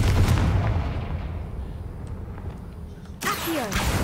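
In the Hogwarts Legacy video game, a Confringo fire spell goes off as loud, rumbling blasts, followed near the end by a sudden whooshing burst.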